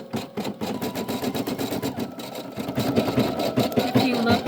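A Brother PE800 embroidery machine stitches a design with a steady, rapid mechanical chatter of needle strokes, fairly close and continuous for several seconds, with some background murmur underneath.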